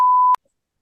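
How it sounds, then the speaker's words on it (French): A single steady censorship bleep tone added in editing, loud and clean, lasting about a third of a second before stopping abruptly into silence. "Je mettrai un bip."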